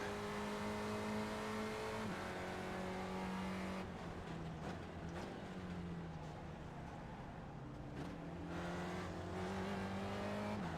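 A Spec Racer Ford race car engine in iRacing drones steadily at high revs, with pitch dropping and climbing through gear changes and corners, a constant near mechanical tone with no talk.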